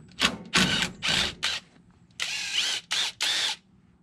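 Ratchet turning an 11/16 shock absorber bolt on a 1966 Chevrolet El Camino during a lowering-spring job, heard as several separate bursts of rapid mechanical clicking spread across a few seconds, close and fairly loud.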